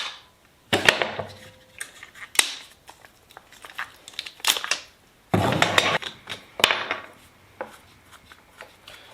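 Two halves of a forged carbon fiber mold, held with waxed screws, are pried apart: sharp cracks and pops, scraping and knocking handling noises, in close, irregular bursts.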